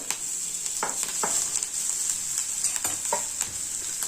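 Hing, turmeric, green chili, curry leaves and ginger sautéing in a pan, producing an even high sizzle with occasional scraping strokes of a spoon, close and continuous, with no speech.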